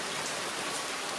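Steady rain falls outside a home garage, a dense continuous hiss of drops on surfaces with no breaks and no voices.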